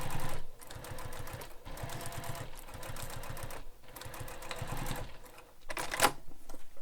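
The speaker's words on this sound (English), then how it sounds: "So top stitch along that using the seam allowance given in the pattern and also your favorite stitch length." Sewing machine top stitches a crossbody bag piece in quick, steady mechanical runs with short pauses between bursts, close up and with no voices.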